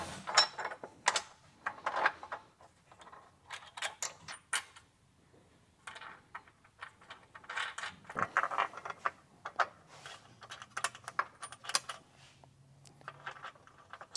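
Metallic ratcheting clicks from a GearWrench tightening bolts on an OX compact carrier for a Sprinter van, in short irregular bursts of jangly clatter with pauses between them, and a low hum in the background later on.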